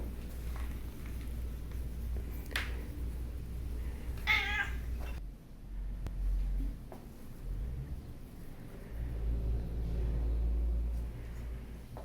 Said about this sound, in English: this is one of their resident cats that lives in the office.